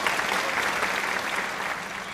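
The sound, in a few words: audience applause at a seminar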